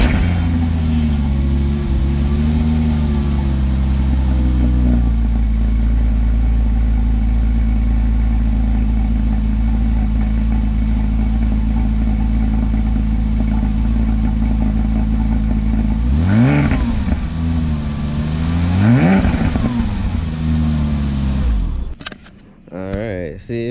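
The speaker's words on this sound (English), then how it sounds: "now we're gonna do a little cold start. The exhaust is pretty stock right now, so it's really quiet until you really rev it out" Car with a mostly stock exhaust idles on a cold start with a low, steady hum, then gets two sharp revs that rise and fall, followed by clattering handling noises near the end.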